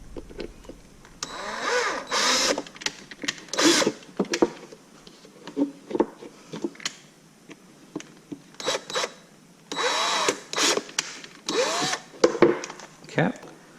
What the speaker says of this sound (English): the last two should be able to just drill right through the